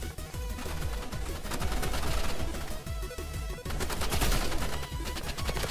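Rapid bursts of paintball gunfire in the Roblox Rivals game crackle and pop almost nonstop, with brief gaps between volleys and no speech.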